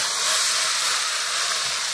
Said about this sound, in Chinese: 这热油往上一泼，